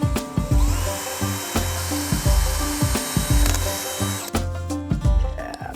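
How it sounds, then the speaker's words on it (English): A power drill whirs in short repeated bursts as it bores into wood, close and loud, with rattling and clatter near the end. "All right, we're gonna drill a hole."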